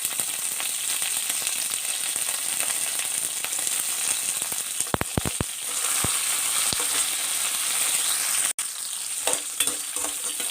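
Onions and curry leaves sauté in hot oil in a pan for chicken dalcha, giving a steady close sizzle with scattered stirring clicks and scrapes and one brief dropout near the end, with no voices.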